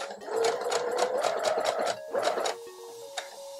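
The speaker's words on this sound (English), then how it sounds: "then we will continue to sew a straight seam with our 5/8 seam allowance" Sewing machine stitching a straight seam with a 5/8 seam allowance through overlaid fabric and selvage, a close rapid whir that slows and stops near the end.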